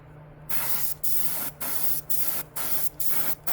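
A light test coat of paint sprayed onto a 1956 Ford with no primer, heard as six short, close hissing bursts in a steady rhythm, each stopping after a brief pause.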